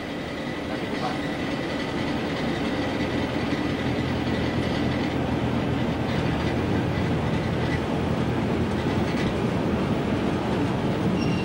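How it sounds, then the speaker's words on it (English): Diesel locomotive 47258 sets off from Princes Risborough with a freight train, rumbling steadily for the whole stretch, a heavy continuous drone with faint clanks of wagons, fairly close and unbroken by voices. "As 47258 sets off from Prince's Risborough with the last freight train to Chinnor"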